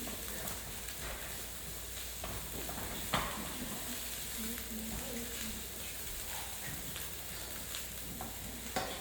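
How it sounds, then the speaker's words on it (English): Rice stirred in a hot pan by a chef, a steady faint sizzle with soft scraping strokes and a few sharper clicks, continuous through the whole stretch. "I keep moving everything because you don't want the rice to burn"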